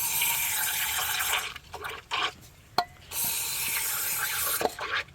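Water from a hose spraying into the engine of an abandoned 1991 Dodge Caravan, a steady hissing spray broken by short gaps and a few drips and splashes, close and fairly quiet.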